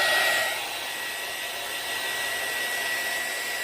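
A heat dryer blows steadily up close, drying alcohol ink on air dry clay. The loud, even whir and hiss is heard alone, with a slight shift at the start.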